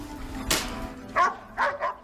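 Dogs hunting a wild boar in the La Pampa countryside bark in short, sharp bursts, a loud thump first, then two or three close yelps in quick succession.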